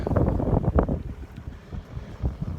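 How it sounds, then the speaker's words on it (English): Strong wind buffets the microphone on an open farm field, a close, low rumbling roar in uneven gusts that carries on throughout. "I gotta get out of this wind"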